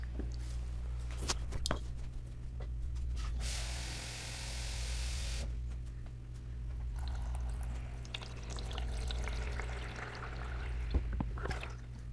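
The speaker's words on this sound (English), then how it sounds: "let's go ahead and get some water put into this" Water poured steadily into a Veken pet fountain, a close, continuous splashing pour that runs for several seconds with a brief pause and then resumes, with small knocks and drips and a low steady hum underneath.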